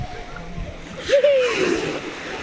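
Sand thrown by a child splashes into the sea at a beach on summer holiday: a single close splash with sloshing water, over steady ambient wash and background voices.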